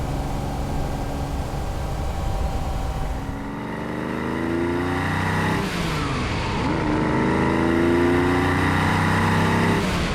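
A red Ferrari Lusso being driven, its engine revving up through the gears with rising pitch that drops at each shift, loud and steady with no voices.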